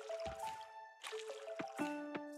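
Crops being watered in the farming video game Coral Island, heard as repeated squishy, splashy pours of water with bright chiming tones over them, close and fairly loud with no voices.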